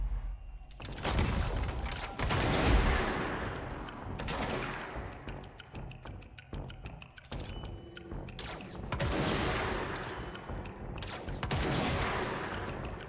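Gunfire in the video game Control comes in repeated bursts of sharp shots with debris and impact clatter, several heavy booming hits, and brief whooshing sweeps between volleys.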